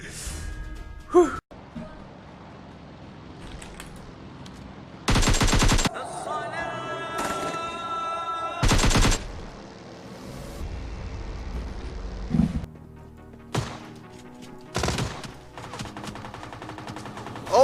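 Bursts of automatic gunfire in PUBG Mobile, several loud separate volleys spread across the span with quieter game sounds between them.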